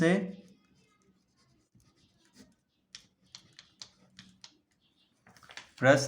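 Handwriting a math problem, a series of short pen or chalk strokes and taps in a quiet room, with a person talking briefly at the start and end.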